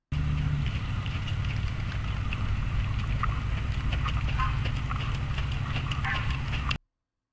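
Hooves of a ridden horse clip-clop steadily over a constant low rumble, a continuous rhythmic patter heard at moderate distance without talk.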